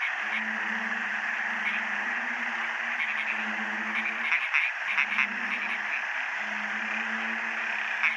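Dense chorus of frogs croaking in a pond after rain, in repeated low pulsing bursts, steady and close, with a bright insect-like hum running continuously behind them.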